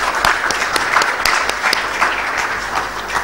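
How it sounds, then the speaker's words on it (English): Applause from a seminar audience for a panel of speakers at a military digitisation conference, a moderate, steady patter of many hands clapping with no voices over it. "I will only request the audience now to join me and applaud the efforts of each speaker"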